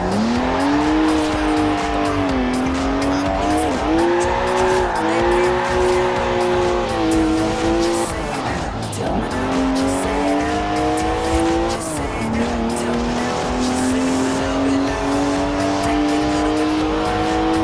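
A BMW driven hard in the Forza Horizon 4 Top Gear special, its engine revving in rising and falling sweeps while tires squeal almost continuously, loud and close throughout.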